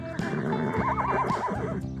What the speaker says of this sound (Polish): Słychać jakiś dźwięk. To jest koń.